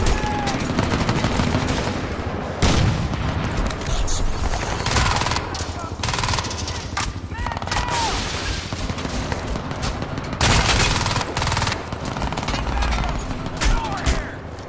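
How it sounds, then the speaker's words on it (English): Sustained bursts of rapid machine-gun fire with scattered gunshots, loud and continuous, in a Crysis 2 Remastered firefight, with voices talking underneath. "I don't know if I can take all this gunfire."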